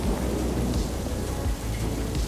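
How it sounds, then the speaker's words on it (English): Steady rain pours onto an outdoor patio area while low thunder rumbles through the downpour, with no voices heard. "And what do you know? The rain did come."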